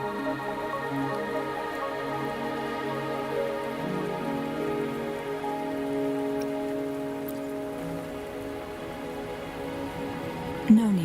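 Steady rain falling in the video game Wuthering Waves, a constant even hiss of drops on surfaces with soft tonal background music, continuous and fairly loud, no voices.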